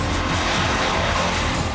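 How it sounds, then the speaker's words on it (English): A BMW petrol car accelerating hard on a race track, heard as a loud, continuous engine roar with a rough, broadband edge throughout and no talking. "the petrol car has roared off to an early lead"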